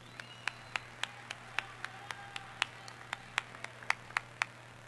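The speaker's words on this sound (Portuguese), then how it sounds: "Uma salva de palmas para ele." Faint, sparse hand clapping, sharp, evenly spaced claps that sound distant and quiet, like a small group applauding.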